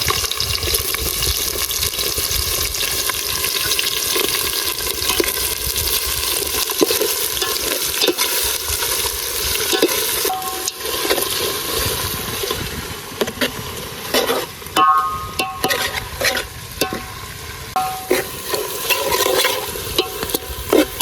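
Onions, chillies, cloves and cardamom fry in a pot for a village-style chicken curry, a loud continuous sizzle and crackle with stirring scrapes, later broken by sharper clatters and short bursts.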